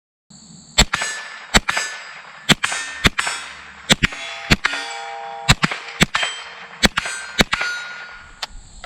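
A Ruger 10/22 rifle fires a string of sharp shots at steel popper targets, each crack followed by a ringing metallic clang, in a steady pace of about a dozen shots with no talk.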